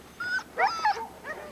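Sled dogs aboard an airplane whimpering, three short high-pitched whines and yips in close succession, near and clear over a low background hum.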